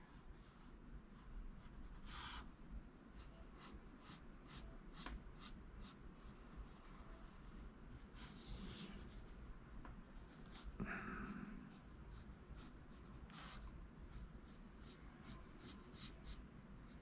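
Blackwing pencil scratching lines across paper while redrawing a Scooby-Doo cartoon, steady close scribbling strokes with brief pauses and a few louder swipes, no voices.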